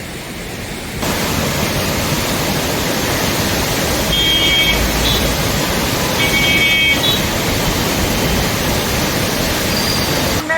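The swollen Sabarmati river in Ahmedabad rushes in flood, a dense, steady roar of water that kicks in after the first second and holds loud and unbroken, with a few faint high chirps above it.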